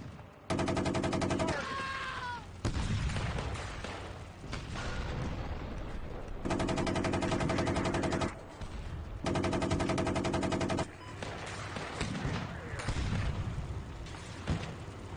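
Tank cannon and machine-gun fire in Steel Beasts Pro on the Central Golan map, sounding as several loud sustained bursts of rapid automatic fire separated by short pauses and rumbling engine noise.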